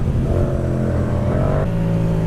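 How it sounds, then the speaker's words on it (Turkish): A Yamaha MT-07 motorcycle with a Yoshimura exhaust revving steadily and loudly, the engine note rising and falling without a break. "Egzoz konuşuyor."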